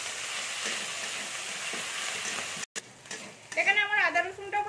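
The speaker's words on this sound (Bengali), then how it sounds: "এবার আমি আদা রসুনটা বেটে রেখেছিলাম সেটা দিয়ে দিচ্ছি" Ginger garlic paste sizzles in hot oil in a pan, a steady close hiss for most of the stretch, cutting out briefly before a voice speaks over the continuing frying.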